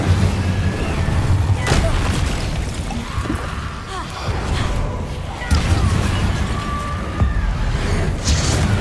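Spell blasts from the Hogwarts Legacy video game, Confringo and Incendio fire bursts, thump and crackle in a dense, continuous din with several sharp booms and whooshes, alongside game music and speech.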